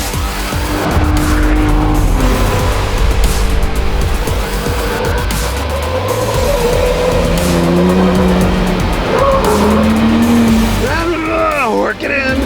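A Ford Bronco Raptor is driven hard on a twisty back road, its engine revving and surging with tires squealing through corners, while a voice talks over the loud, continuous motor.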